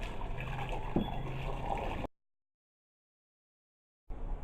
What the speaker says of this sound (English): I'm going to be adding water inside the pot